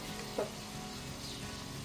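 Cumin seeds and garlic sizzle in hot oil for a tempering, a soft, steady frying hiss with a faint crackle near the start, quiet and alone.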